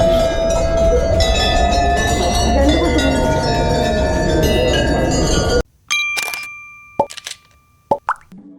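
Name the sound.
temple bells being rung by hand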